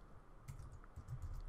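Computer keyboard being typed on, a brief burst of several quick, quiet key clicks close by with soft background hiss, no voices.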